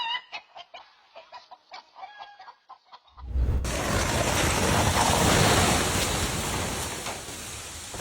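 Chickens cluck and a rooster calls in several short, close bursts during a hawk attack on the flock, then a loud, steady rushing roar abruptly covers everything for the rest of the clip.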